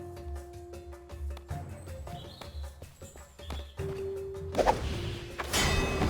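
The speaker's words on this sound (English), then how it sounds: "I heard that explosion from here" A bomb blast in the fantasy game Riders of Icarus on the Braghin Battlefield: a loud broadband burst rises near the end, layered over scattered thumps, whooshes and ambient game effects.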